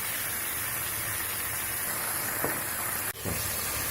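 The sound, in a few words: garlic and ginger sautéing in a pan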